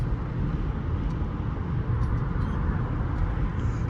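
A Mercedes-Benz C300 cruises through city streets at night with the roof open, giving a steady low road rumble and wind noise heard from inside the car. Faint passing traffic sits under the drone, with no talk.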